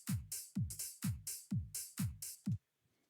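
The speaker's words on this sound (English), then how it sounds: "Next, I have the hi-hats, which sound like this." Layered hi-hats from a tech house track tick in a regular groove of about six crisp, bright hits. They play together with punchy low kick thumps, then stop abruptly into near silence.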